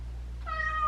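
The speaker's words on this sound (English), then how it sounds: "There's gonna be cats that interrupt." A house cat lets out a single short, whiny meow, close and clear over a low steady background hum.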